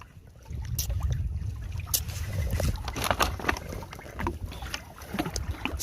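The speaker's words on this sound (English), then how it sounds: "We're sailing now." A Hobie Cat catamaran sails off Phuket, with water splashing and lapping against the hulls and occasional knocks, fairly faint and close, with some wind noise.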